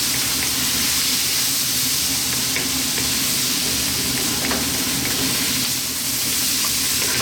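Chana curry with spices and salt cooking over a lively heat, a loud, dense, continuous sizzle and bubbling hiss with faint stirring, close and unbroken throughout.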